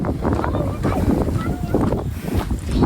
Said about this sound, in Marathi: आवाज येत का माहिती नाही काय पण कारण लय वारा सुटलाय